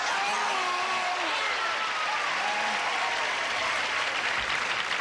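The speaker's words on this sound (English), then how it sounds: "Would you all greet us now, help us now in greeting our stars with a big round of applause." Studio audience at a 1984 Match Game–Hollywood Squares Hour taping breaks into a big, steady round of applause greeting the stars, dense and sustained throughout, with faint voices and cheers rising within it.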